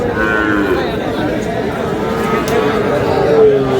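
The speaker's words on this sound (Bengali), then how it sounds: "শাহিওয়ালের ষাঁড়।" A Sahiwal bull at a cattle market moos amid dense crowd chatter, the lowing running continuously under steady, loud market noise with people talking nearby.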